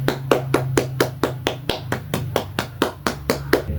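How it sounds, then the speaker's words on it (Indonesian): Students in a classroom clap together for the groups, a close, fairly loud run of about fourteen sharp, evenly spaced claps in a brisk rhythm. "sekarang mari kita beri tepuk tangan untuk semua kelompok yang telah mengerjakan dengan sangat baik"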